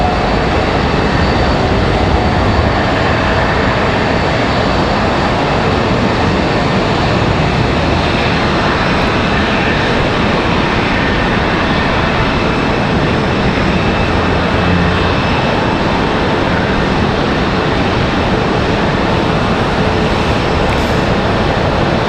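An American Airlines Airbus A321 arriving at Charlotte Douglas airport, a steady broad engine roar that holds loud and even throughout, with no voices over it.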